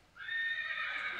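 A horse lets out a single drawn-out whinny, tonal and steady, held for most of a second with fairly soft background noise underneath and no talking.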